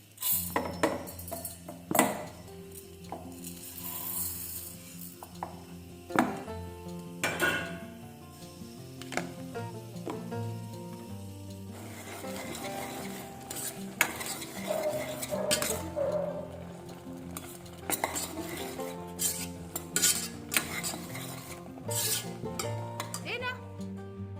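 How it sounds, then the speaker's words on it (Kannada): Dishes being washed in a kitchen sink: soft clinks and scrapes of utensils and pots come in scattered bursts, fairly quiet, over faint steady background tones. "ಪಾತ್ರೆ ತೆಗೆದು ಪಾತ್ರೆ ತೊಳೆದು"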